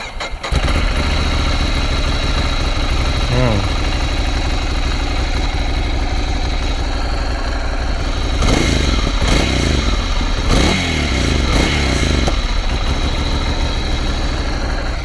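A 2017 Ducati Scrambler Desert Sled motorcycle idles close by, its exhaust putting out a steady low rumble for the whole stretch, with a few brief blips and clunks partway through.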